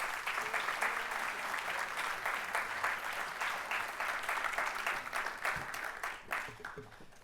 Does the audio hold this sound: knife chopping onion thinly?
no